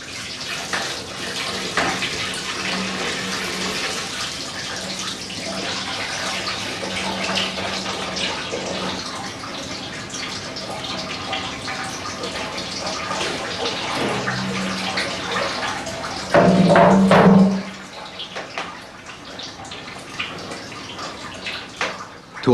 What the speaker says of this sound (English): After every pressing, the big cauldron is refilled.